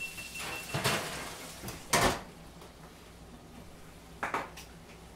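A kitchen oven door clanks open and shut while a tray of chicken skins goes inside, a few sharp metallic knocks spaced over a few seconds in a quiet room.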